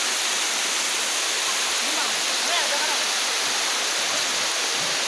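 A waterfall at Magallanes falls pours in a steady, loud, broadband rush that fills the whole clip, with faint voices of bathers partly buried in the roar.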